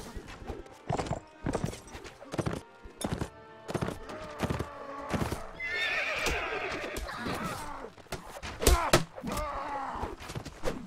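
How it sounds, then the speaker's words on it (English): A horse whinnies loudly amid the irregular clip-clop of hooves in a Mount & Blade multiplayer siege battle, with thuds and scattered clatter of combat throughout and someone talking intermittently. "Come on, horse. Come along."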